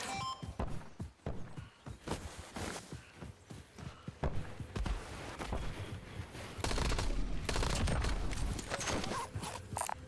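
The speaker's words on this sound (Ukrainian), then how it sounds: "Снайпер против пулемета." Video game sniper and machine gun fire, a scattered run of sharp shots and short bursts that thickens toward the end into denser, louder rattling, with a mix of near and more distant reports.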